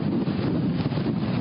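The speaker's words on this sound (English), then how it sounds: "Whoa, there goes another big gust." A strong hurricane gust buffets the microphone at Satellite Beach, Florida, producing a loud, continuous, low roaring rumble that surges and wavers without pause, with no talking.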